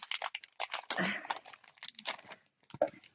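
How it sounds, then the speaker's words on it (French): Close, crisp crinkling and rustling of a plastic bag in short bursts, with someone speaking over it. "Désolée pour le bruit de sachet"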